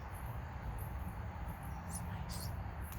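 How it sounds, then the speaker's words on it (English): Crickets chirp at night in a quiet spot, a steady high trill with brief louder bursts over a soft low background hum, faint and continuous with no talking. "You can hear the crickets."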